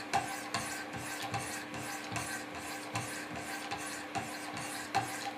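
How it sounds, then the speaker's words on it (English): Steady back-and-forth strokes of 400-grit Wicked Edge stones sharpening a Benchmade Mini Griptilian knife blade, a rhythmic scraping rasp about twice a second, close and even, with no talking. "So I'll do a few more strokes with my 400 grit stones."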